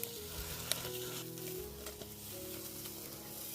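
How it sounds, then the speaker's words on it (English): Skin-on salmon sizzling and frying in a pan, a steady crackling hiss with a few sharp pops near the start. "Crispy skinned salmon, crispy fried."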